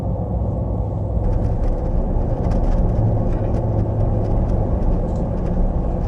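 The 6.6-litre engine of a 2020 Chevrolet Silverado Heavy Duty pickup with a GM automatic transmission, heard from inside the cab while driving as a loud, steady low rumble with road noise, and no one speaking.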